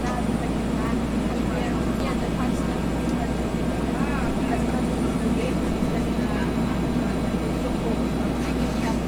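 Simulated Bell 412 helicopter in flight in the X-Plane 11 flight simulator, a steady continuous rotor and turbine drone with low-frequency throb throughout, with talk layered over it.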